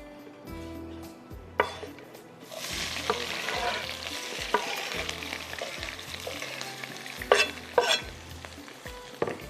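Onions for oven chicken rice fry and sizzle in a pan, with a steady crackle under repeated scraping stirs of a spoon and a few sharp clinks against the pot.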